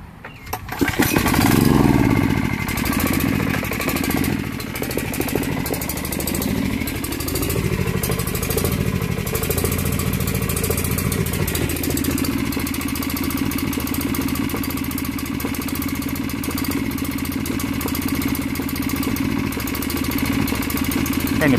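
A small pull-start engine running on hydrogen gas sputters into life and then settles into a steady, loud idle close by, its pitch shifting slightly as the gas pressure is adjusted.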